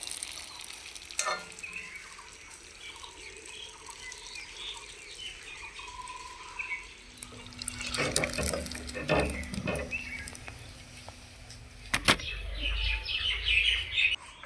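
Foxtail millet rice batter fries in a kadai for pitha with a continuous bubbling sizzle, swelling louder in the second half, with a few sharp clinks of a ladle and faint background chirps.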